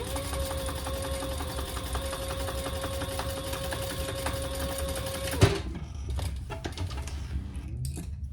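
A sewing machine stitches through a thick hobo shoulder bag, humming steadily and fast at close range for about five seconds before stopping abruptly, followed by faint handling noises.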